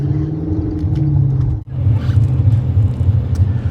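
A car driving downtown through a city, heard from inside as a steady low engine and road rumble with a brief dip partway through, then continuing evenly; no talking.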